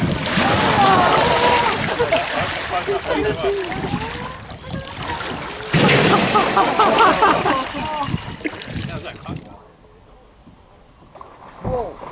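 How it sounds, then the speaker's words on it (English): Water splashes and churns loudly as a crocodile lunges at people paddling kayaks, with turbulent sloshing in bursts that fade near the end before a brief final splash; voices are heard over the commotion. "A crocodile suddenly attacks people kayaking on the water."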